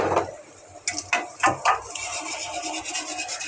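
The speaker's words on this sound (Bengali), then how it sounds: "এভাবে নাড়াচাড়া করে ডিমটা একদম ঝুড়ি ঝুড়ি ডিম করে ফেলতে হবে" A utensil scrapes and rubs against a pan while eggs are stirred and broken up into scrambled bits, with several sharp knocks and continuous close scraping.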